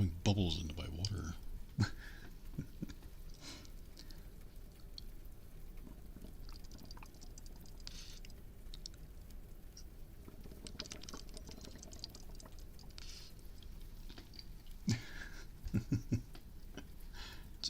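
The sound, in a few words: bubbles blown into a glass of water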